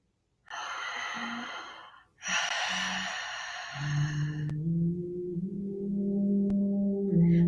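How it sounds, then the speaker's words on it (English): Slow, deep breaths drawn in and let out during a guided meditation, two long airy breaths a few seconds each, close and clear, followed by a low steady hum. "Breathing in and breathing out."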